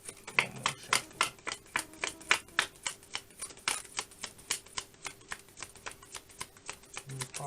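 Tarot cards are shuffled close up, a quick run of crisp riffling snaps and flicks in an even rhythm, with no voices over them.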